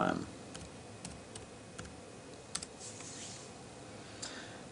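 Soft keystrokes on an ASUS Transformer Prime keyboard dock, a handful of scattered light clicks in a quiet room, following a brief opening burst.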